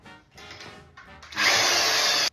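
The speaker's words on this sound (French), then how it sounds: "Si la perceuse veut bien coopérer." A power drill whirs in short starts, then runs loud and steady at high speed for about a second before stopping abruptly.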